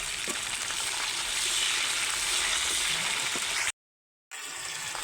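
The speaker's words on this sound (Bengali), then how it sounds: "ডাঁটাগুলোও সামান্য ভেজে নেব।" Moringa drumstick stalks fry in a pan alongside potatoes for a rohu fish curry, making a loud, continuous close sizzle with faint stirring clicks, broken by a brief silent gap before the sizzling resumes.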